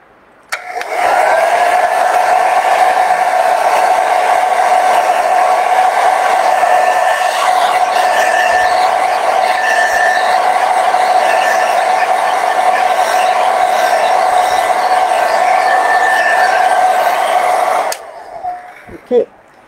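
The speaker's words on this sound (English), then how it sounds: "So let's use my blow dryer to speed it up just really quickly." A blow dryer runs steadily at close range with a loud, even whirring hum for most of the stretch, then cuts off near the end.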